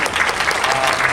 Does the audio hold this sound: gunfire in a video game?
no